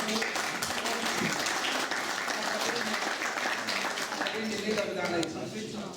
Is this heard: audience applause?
yes